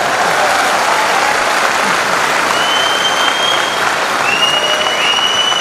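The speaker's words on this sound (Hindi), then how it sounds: "तालियां बजा सकते हैं आप?" An audience at a training seminar applauds loudly and steadily, a dense wash of clapping that continues without pause, with a few faint whistles rising over it.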